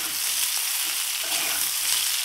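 Drumstick pieces and potato chunks fry in a pan, giving a steady, close, bright sizzle with no voices.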